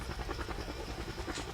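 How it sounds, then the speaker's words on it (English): Helicopter rotors chop in a rapid, steady beat over a deep engine rumble in Call of Duty Blackout, loud and close, with no talking. "I'm about to fly a helicopter in a Call of Duty game."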